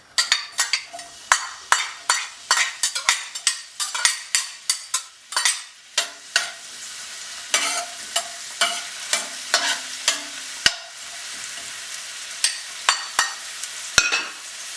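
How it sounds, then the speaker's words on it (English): Onions crackle and sizzle loudly in hot oil in a pan, punctuated by repeated scraping and clacking of a utensil stirring through them. "Let the onion sizzle in the oil"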